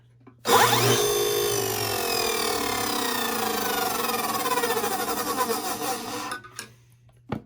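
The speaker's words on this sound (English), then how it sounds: "It's going to be loud probably because it's going to cut through that wood a little bit." A table saw blade spins up and cuts up through a wooden zero clearance plate, a loud, steady whine with rising and falling tones that lasts about six seconds, then winds down to near silence.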